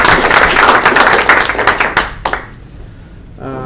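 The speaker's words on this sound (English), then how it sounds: "I just want to give a big applause to the presenters." Applause for the presenters after an online design talk: a burst of close, sharp hand claps that thins out and stops partway through, followed by quiet and then a brief voice.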